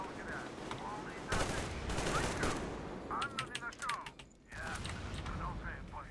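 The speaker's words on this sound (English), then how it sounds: "I think it's just Sam shooting dudes" Gunfire in the Metro Exodus video game rattles out in sharp, rapid bursts interrupted by short gaps, mixed with mechanical clanks and creaks from the weapons.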